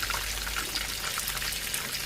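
Excess oil drains and drips off freshly fried, golden-brown buffalo wings, making a steady, soft trickling and sizzling patter close by with no talk.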